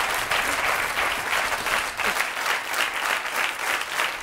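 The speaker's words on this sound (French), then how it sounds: "On applaudit Roxane, merci et bravo." Steady audience applause in a French TV studio, dense continuous clapping from a crowd, loud and sustained with no voices on top.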